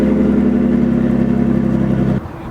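A car pulls in and parks at a drift shop, its engine holding a steady, loud mid-pitched rumble close by before cutting off near the end, leaving a quieter tail.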